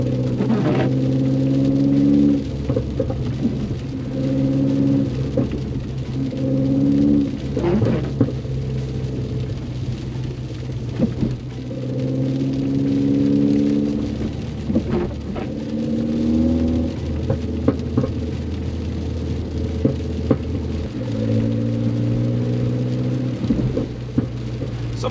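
A Mini Cooper S in sport mode driving on a snowy road, its engine rising and falling through repeated rev climbs with droning harmonics, loud and close from inside the cabin over a constant road rumble.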